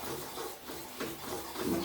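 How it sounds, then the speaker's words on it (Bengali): A tamarind sour curry with hilsa fish roe boils in a pot, giving a soft, steady bubbling hiss with small irregular pops, quiet and close, with no talking. "টকবক করে ফুটছে"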